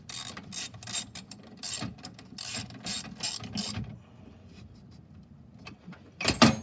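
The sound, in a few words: nut being tightened onto bolt on EZGO golf cart solenoid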